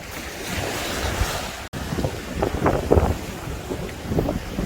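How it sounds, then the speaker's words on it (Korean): Sea waves wash and break along a tidal sea road near a pier, a continuous broadband surf roar with swelling surges, buffeted by wind noise on the microphone. "여기는 지금 파도가 치고 있고요"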